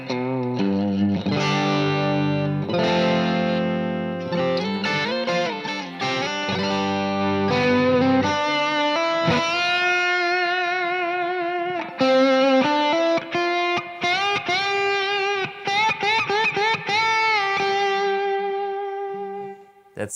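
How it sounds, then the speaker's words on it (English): Electric guitar run through effects units with distortion and chorus, producing a buzzing 1960s sitar-like tone: sustained droning notes, then bent melodic phrases and quick picked runs, loud and alone throughout. "We know that those 60s like sitar sounds."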